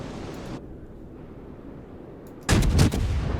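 Naval guns fire a heavy salvo in World of Warships, a deep booming blast breaking in loudly after a stretch of low wind-like rumble.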